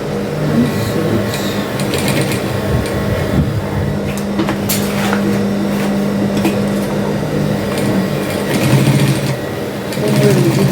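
Sewing machine stitching a fabric souvenir bag, a loud, steady mechanical hum with a rapid needle chatter close by, running almost without a break and swelling slightly near the end.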